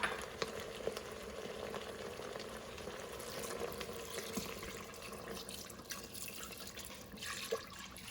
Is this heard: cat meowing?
no